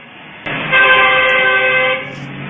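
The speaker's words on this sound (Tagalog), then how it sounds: "Sige, busina ang series." A Ceres passenger bus sounds a long, loud, sustained horn blast at a road crossing, steady for over a second before cutting off, with street noise around it.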